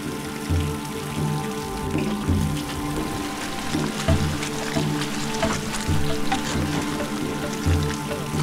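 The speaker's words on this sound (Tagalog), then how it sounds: "biglang bumuhos ang malakas na ulan." Steady heavy rain patters and hisses on surfaces along a muddy path, a dense continuous wash with a low rhythmic thumping underneath.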